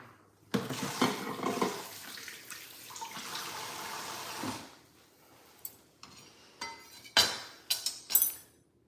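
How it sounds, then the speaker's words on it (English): Tap water runs into a kitchen sink while hands are rinsed, a loud rushing stream for several seconds that stops, followed by scattered splashes and light clinks. "Let me just rinse my hand."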